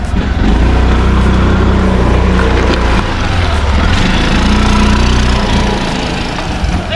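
A Yamaha Mio Gear 125 scooter engine runs steadily nearby, a continuous low droning hum that holds at an even level throughout, with no talk over it.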